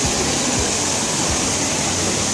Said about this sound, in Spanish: Aquí estoy en la fontana de mi deseo, que se llama la fontana de Trevi.